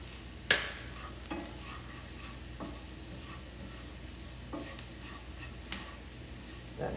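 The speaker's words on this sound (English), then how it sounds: "Just stir that in really good." Sugar, flour, salt and pepper are stirred into translucent onions in a pan over a faint, steady sizzle, with sparse soft scrapes and a few clicks of the spoon.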